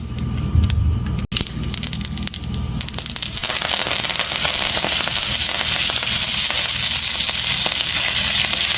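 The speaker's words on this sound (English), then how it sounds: "I'm going to add mustard in this. and allow it to crackle." Dense crackling and sputtering of mustard seeds popping in hot ghee, building into a steady loud sizzle with rapid pops throughout, close up.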